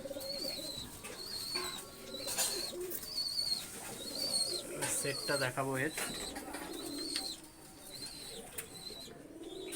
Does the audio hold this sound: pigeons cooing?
yes